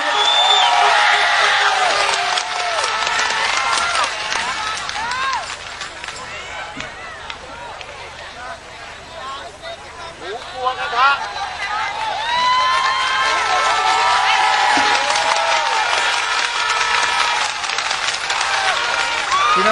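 A crowd at an outdoor political rally applauds and cheers to welcome a singer, a steady wash of clapping beneath loud amplified voices throughout.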